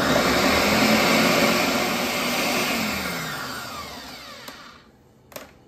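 A kitchen blender whirs loudly, blending tomato sauce with a large garlic clove and salt, then winds down and stops, followed by a couple of small knocks.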